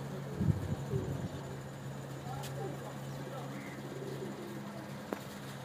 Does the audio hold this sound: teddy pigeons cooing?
yes